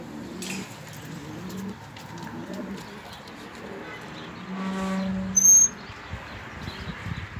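Kirkuk pigeons cooing softly in a loft, a low murmuring coo rising and falling across the clip, with a brief sharper chirp near the end and faint background voices.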